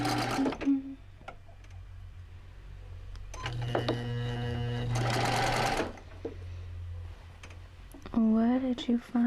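An electric sewing machine runs in a long continuous whir, with clicks and handling noises before it, some voice-like tones near the start and a rising voice at the end.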